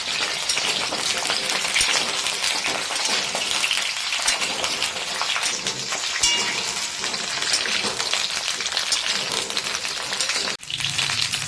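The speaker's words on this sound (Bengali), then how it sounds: "এই সময় দিয়ে দিচ্ছে এতে কেটে রাখা বেগুন" Chopped eggplant frying hard in oil over a high gas flame, giving a loud, steady crackling sizzle that fills the whole stretch with only a brief dip near the end.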